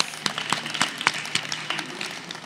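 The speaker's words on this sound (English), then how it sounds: "Applaud the poet, not the points." A student spoken word poetry event audience applauds a poet, with scattered hand claps forming a modest, fairly faint burst of clapping from the room.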